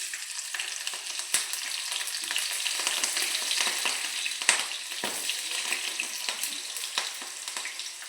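Mustard seeds, cumin and chilies fry in hot oil in a pan, giving a steady close sizzle with scattered pops and crackles throughout, no speech.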